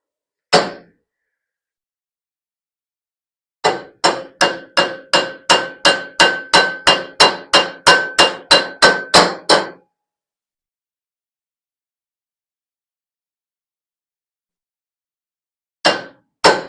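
A hammer pounds old rubber during rear axle work, with one early strike, then a rapid run of about twenty sharp, loud blows, and a few final hits at the end, with quiet gaps between.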